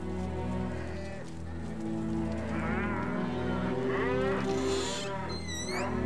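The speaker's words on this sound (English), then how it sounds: "the cow still wouldn't settle down" A cartoon cow moos in long, low drawn-out calls, fairly close, over a steady background hum with other faint animal noises.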